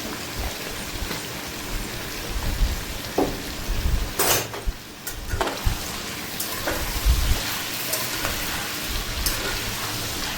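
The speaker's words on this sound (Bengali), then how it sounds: "নুন হলুদ দিয়ে একটু ভালো করে ভাজা ভাজা করে নেবো আলুটা" Potatoes seasoned with salt and turmeric fry in a pan, a steady close sizzle with crackling pops and a few louder stirring scrapes, no voices.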